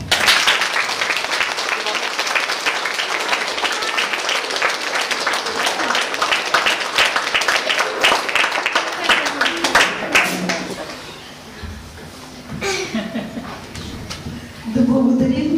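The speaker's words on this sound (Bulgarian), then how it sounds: "А сега аплодисменти за всички момчета." A crowd of parents claps loudly and continuously for the children at a 2015 kindergarten group celebration. The applause thins out after about ten seconds, and a voice then speaks over the quieter room.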